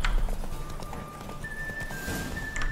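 Horse hooves galloping in the video game The Witcher 3, a continuous rhythmic clip-clop under game music with steady tones and ambient noise, moderately loud.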